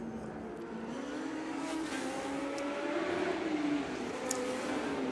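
Historic racing car lapping the Monaco street circuit during the Monaco Historic Grand Prix, a steady engine drone building gradually as the car draws closer, with no talk over it.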